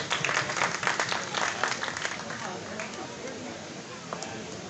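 Applause rings out from a crowd at a prize ceremony for a pigeon-flying one-day tournament, with dense clapping that is loud at first and then gradually thins out beneath a hubbub of voices.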